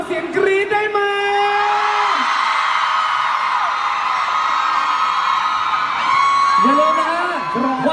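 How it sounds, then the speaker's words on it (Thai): Concert crowd at a live pop show in a Bangkok shopping mall screams and whoops continuously, a loud sustained wall of high cheering with yells rising near the end. "ขอเสียงกรี๊ดได้มั้ย"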